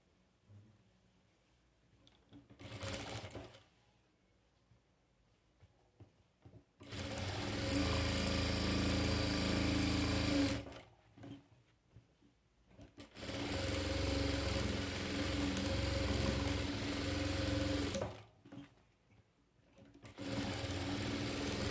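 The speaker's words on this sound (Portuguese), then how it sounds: "agora, eu passo uma costura aqui" Sewing machine stitching a seam across fabric patchwork pieces, running in three long, steady whirring bursts separated by brief quiet pauses, close and clear.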